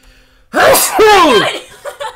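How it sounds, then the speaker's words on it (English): A single loud, close sneeze: a rising, drawn-in breath that bursts into a sharp exhale, followed by a few quieter vocal noises. "I'm going to sneeze."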